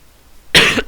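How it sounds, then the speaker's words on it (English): A single sharp cough bursts out after half a second of near silence, with the start of a second cough cut off at the very end. "Had the cough."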